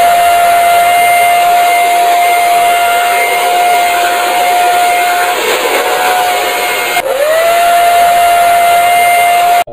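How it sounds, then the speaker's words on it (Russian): A steady, loud whirring hiss with a high constant whine, harsh and lo-fi, a very low-quality recording of a hair dryer in a video game, dipping briefly before resuming. "Это был звук фена, записанный в очень низком качестве."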